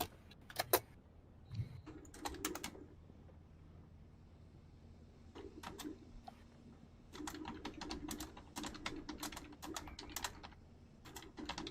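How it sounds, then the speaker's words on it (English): Computer keyboard typing in scattered bursts of clicky keystrokes, with a quiet stretch in the middle and faint wind-like background noise underneath. "Typing!"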